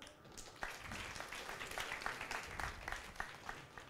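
An auditorium audience at a university lecture claps steadily in warm applause, a dense sustained patter of many hands filling the space without a break.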